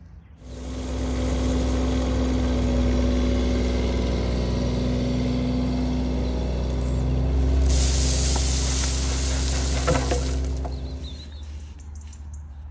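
A swivel dumper's engine runs loud and steady close by as it drives along tipping gravel into a French drain trench, with a rushing hiss of the pouring stones partway through before the engine fades out.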